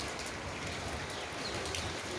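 Heavy rain pours down in India, a steady, dense hiss of falling water that holds an even level throughout with no pauses and no voices.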